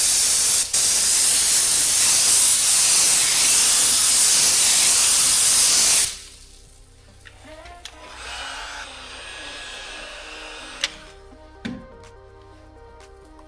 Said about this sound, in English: It's now time to put the clear coat on the handle.